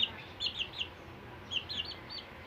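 Backyard chickens on a small poultry farm give several short, faint clucks and chirps in two brief bursts over quiet background noise.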